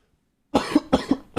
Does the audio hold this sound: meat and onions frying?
no